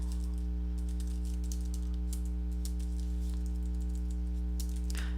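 Steady, fast typing on a computer keyboard while writing code, a continuous run of light close key clicks over a constant low electrical hum.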